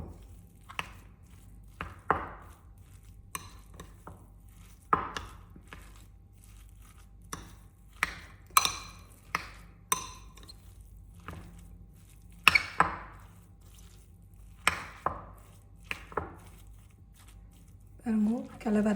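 Tinned fish and mashed potato filling being mixed in a bowl in a home kitchen, giving soft, irregular squishing and scraping strokes, fairly close and quiet, with a person talking throughout.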